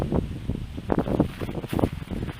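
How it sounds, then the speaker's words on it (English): Gusty wind buffeting the microphone in low rumbling bursts, rising and falling over a couple of seconds, with no talking. "It's windy."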